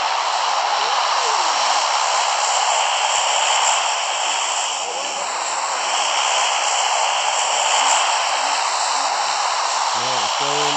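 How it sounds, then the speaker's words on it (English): The drop plane in PUBG Mobile drones overhead with a steady, loud engine roar that swells and fades slightly across the whole stretch, joined near the end by brief game tones. "the plane's coming from northeast, going to southeast"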